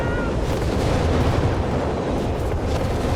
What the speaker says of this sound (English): So many incendiary rockets there being launched.